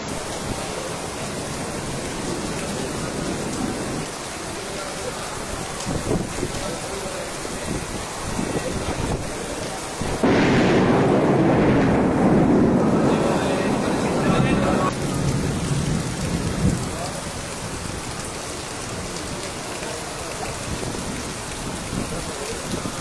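Summer rain in the hill country pouring heavily on surfaces with rumbling thunder, swelling to a louder roaring burst midway before easing back to a steady downpour.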